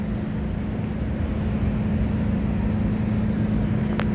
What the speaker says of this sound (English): This car is really causing problems today.